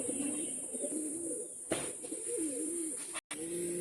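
Oman teddy pigeons cooing close by: soft, low, warbling coos repeat steadily over a quiet background hiss, with one brief rustle partway through.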